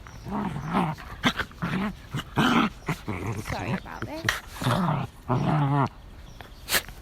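Small terrier dogs growl, whimper and yip in short bursts close by, woven through a woman's steady spoken instructions during a stretching practice.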